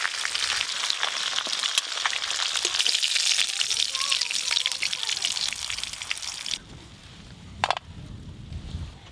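Potato and cauliflower frying in oil left from browning fish heads, a loud, continuous crackling sizzle that drops off abruptly, then faint kitchen clatter.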